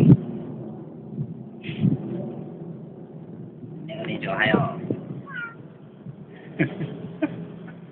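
A cat in a home setting gives several soft, close meows scattered across a few seconds, mixed with people talking and some rustling handling noise.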